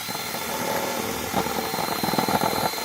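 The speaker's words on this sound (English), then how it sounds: "I'm going to try reaming it with this 20mm drill bit." A 20mm drill bit reams out a hole in an arcade game controller panel, giving a steady whirring drone with a gritty, rasping edge that roughens midway, continuous and fairly close.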